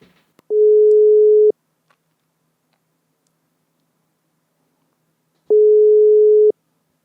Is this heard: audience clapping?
no